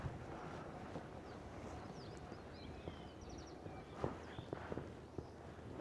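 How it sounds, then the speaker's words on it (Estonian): Faint gusts of wind buffet the microphone while fishing from a boat on the Pirita River, a low rumbling hush with a few soft knocks and no speech. "Vahepeal on mingi tuuleood,"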